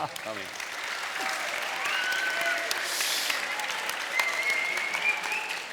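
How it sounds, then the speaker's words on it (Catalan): Audience applause at the close of a talk on Catalan on social media, sustained clapping at moderate loudness that swells slightly midway, with faint voices mixed in. "Podeu aplaudir també."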